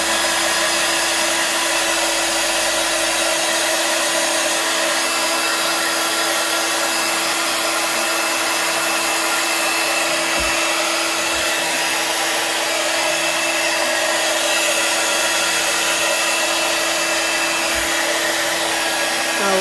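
A hair dryer blows steadily and loudly at close range for the whole stretch while a glass jar for a mixed-media craft project is dried, with no talking over it.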